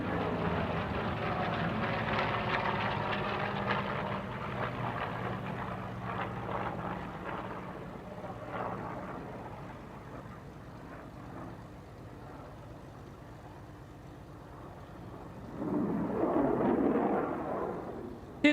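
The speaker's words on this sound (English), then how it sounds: "get your cameras ready as the A-1 Sky Raider and the Super Hornet approach in section formation" An A-1 Skyraider and a Super Hornet fly past in section formation at the SUN 'n FUN Aerospace Expo airshow, a broad engine roar swelling loudly, easing off, then surging again near the end.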